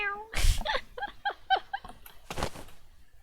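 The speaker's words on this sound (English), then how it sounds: "The rental guy's eyes widen at the sound of the cat's mewling." A cat mews a few times in the video game 428 Shibuya Scramble, short rising cries spaced about a second apart, close and fairly clear, with a couple of brief noise bursts around them.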